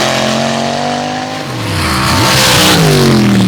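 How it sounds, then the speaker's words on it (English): A 634 cubic inch alcohol-injected Chevrolet pulling vehicle roars loud and close at a dirt track, its engine pitch dipping then climbing as it revs hard, continuous with no talk. "a 634 cubic inch alcohol-injected Chevrolet and Psycho Sneak"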